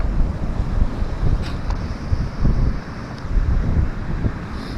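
Strong wind buffeting the microphone on a seaside beach, a loud continuous low rumble with gusty swells, the surf faintly underneath.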